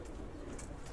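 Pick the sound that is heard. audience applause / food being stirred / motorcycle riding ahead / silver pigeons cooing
silver pigeons cooing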